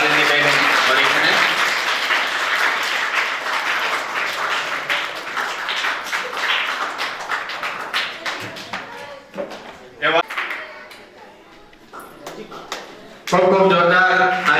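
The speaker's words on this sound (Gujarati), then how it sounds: "તાળીઓથી વધાવીએ અને ખૂબ ખૂબ વંદન સાથે અભિનંદન પાઠવીએ" Audience clapping at a school hall inauguration in Rikadiya, a fairly loud, dense wash of applause that thins out midway, with a speaker's voice heard in the gaps and another burst near the end.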